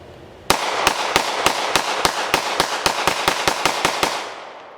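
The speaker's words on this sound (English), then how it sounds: "And then we shot some just hodgepodge of, jacketed hollow points defense load." S&W Model 5906 3rd Gen pistol firing a mixed magazine of jacketed hollow point defense rounds: about fifteen sharp, loud shots in a quick, even rapid-fire string, then silence.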